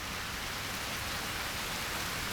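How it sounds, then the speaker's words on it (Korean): Heavy summer rain begins falling on Jeju, a dense, even hiss of drops striking surfaces, steady and close, with no voices. "두 사람이 기다리던 비가 내리기 시작합니다."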